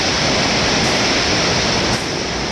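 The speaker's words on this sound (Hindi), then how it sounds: "नज़ारा पानी का, पानी बहुत तेजी से आ रहा है।" Steady, loud rushing of a fast-flowing river on the road from Meerut to Nainital, a dense continuous roar with no pauses.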